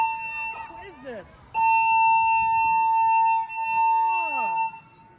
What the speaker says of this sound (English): I just pulled the fire alarm